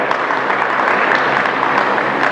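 Steady applause from an audience at a borrowers' guidance camp in Aurangabad, a continuous even wash of many hands clapping at constant loudness with no speech over it.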